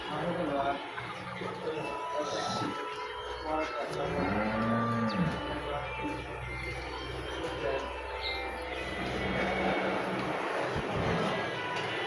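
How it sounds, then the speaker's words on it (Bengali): Cows, including Jersey, Holstein and Friesian dairy cattle, moo at a cattle market, a long low call rising midway over steady crowd murmur and people talking nearby. "জার্সি, হলস্টেইন, ফ্রিজিয়ান সকল প্রকারই গাভী আছে"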